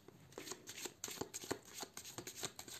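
Tarot de Marseille cards being shuffled close up in a quiet room, a series of soft rapid riffles and taps in an irregular rhythm.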